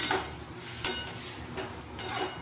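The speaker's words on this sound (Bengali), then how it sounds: "এবার আমি একটু একটু জল দেব আর ভালো করে নেড়ে চেড়ে কষিয়ে নেব।" Aloo chorchori (potato stir-fry) with capsicum being stirred and fried in a pan as water is added, a soft continuous sizzle with a few scraping spatula strokes, close but quiet.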